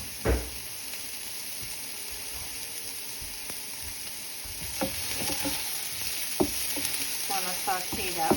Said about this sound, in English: Now I'm going to add some finely chopped onions, and I'll just want to saute that for a few minutes.